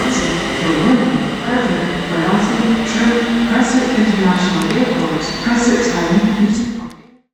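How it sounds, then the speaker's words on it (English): A ScotRail Class 380 electric train departs Paisley Gilmour Street station, heading to Glasgow Central from Ardrossan Harbour, giving a loud, steady rumble with rising motor whine that carries on throughout before cutting off abruptly. "departing now is 380-110, heading over to Glasgow Central from Ardrossan Harbour."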